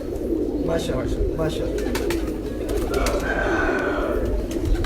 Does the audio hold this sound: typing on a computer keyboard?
no